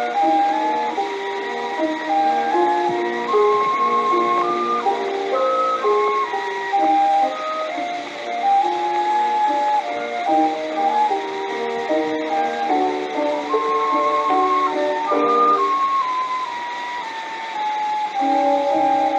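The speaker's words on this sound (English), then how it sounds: "Here is one, engraved in 1910, in which he performs Bizet Métuée from the Arlésienne." A 1910 acoustic recording of the Minuetto from Bizet's L'Arlésienne played as a solo, clear melodic lines over the thin, narrow sound and faint surface hiss of an old 78 RPM disc.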